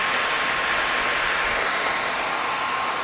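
Loud computer fans roar steadily like a car engine, a dense, constant broadband whoosh close to the microphone that holds the same level throughout with no speech.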